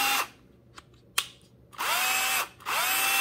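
A Milwaukee M12 2494-22 cordless drill/driver whirs briefly, then a couple of sharp clicks. It spins up twice more for about a half-second each, and each run cuts off abruptly as the electric brake stops it. The sound is close, with no talking.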